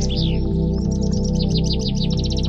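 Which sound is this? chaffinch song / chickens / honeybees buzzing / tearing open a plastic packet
chaffinch song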